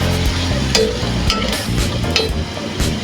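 Shredded cabbage stirred and frying in a pan with a little broth, a steady loud sizzle broken by scraping spatula strokes at a regular pace.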